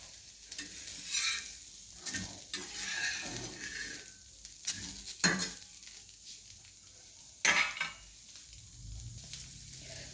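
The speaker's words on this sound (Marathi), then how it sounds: "याला आपण आता माशाला लावून तळूया मास चांगलं लगेच भाजतात" Marinated fish frying in a pan, a steady close sizzle with stirring and occasional sharp clinks of a utensil against the pan, no voices.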